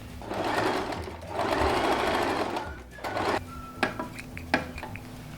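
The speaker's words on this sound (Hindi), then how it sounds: "बस इसी को मिलाते हुए सिलाई डाल देंगे।" Sewing machine stitching shut the elastic gap on a salwar waistband: two sustained bursts of rapid mechanical whirring, then a pause with a few light clicks and taps, close by.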